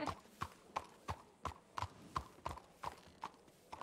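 Horse hooves clip-clop in a roleplay video game: a steady run of about ten sharp hoof strikes at an even walking pace, moderately close over a faint background.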